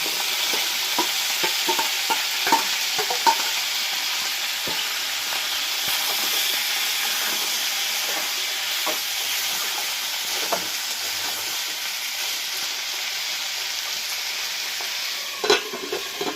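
Potatoes stirred into a frying pan for a Bengali soybean curry with drumsticks and tomato give a steady loud sizzle, broken by repeated scraping stir strokes and a sharper clank near the end.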